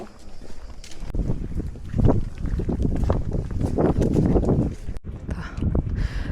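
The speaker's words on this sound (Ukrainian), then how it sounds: "Вітер дуже сильний." Strong wind roars and buffets the microphone in gusts, loud and close, with broadband rumble that swells and dips throughout.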